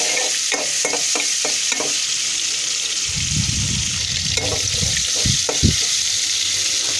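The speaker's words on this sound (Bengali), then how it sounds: "প্রথমে রসুন আর চিংড়িগুলো ভেজে নিব" Garlic and shrimp fry in a pot on the stove, a loud sizzle that swells in the second half, preceded by sharp stirring scrapes and clinks, with no talk.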